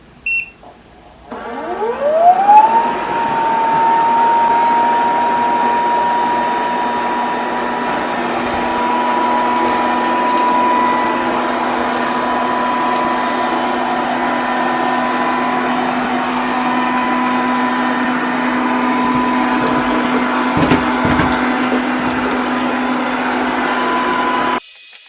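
A TP-Link Tapo RV10 Plus robot vacuum powers up with a rising whine that settles into a steady, loud motor hum and whir, running continuously with no talk.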